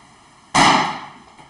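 A single balloon bursts with a sharp, loud pop that trails off over about a second, alone with no talk around it.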